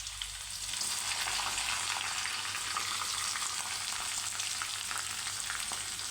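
Garlic, ginger and capsicum fry in a hot pan with a steady, continuous sizzle, close and fairly even throughout, with faint stirring and no voices.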